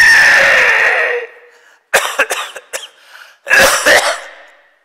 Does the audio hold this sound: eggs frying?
no